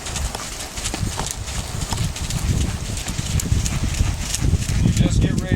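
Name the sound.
Mustang horse hooves while being ridden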